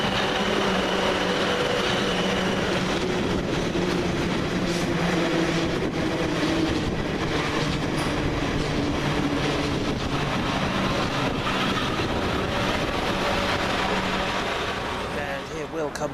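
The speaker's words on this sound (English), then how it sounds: "It's now arriving the 1103 South West Train service from London Waterloo to Port of Harbour." South West Trains service pulling into a station, a continuous broadband rumble and rolling wheel noise with squeals and clanks, close and steady for sixteen seconds, easing slightly at the end.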